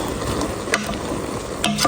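Wet scraping and stirring of beef tripe with turmeric in a pot, a light sizzle underneath, a few utensil clinks breaking the steady churning.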